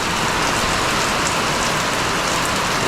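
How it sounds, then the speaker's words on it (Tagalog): Heavy rain pours steadily outside during an all-night downpour with strong wind, a dense, continuous close hiss of drops striking surfaces, with no voices. "Malakas pa rin yung ulan dito sa amin mga kautol."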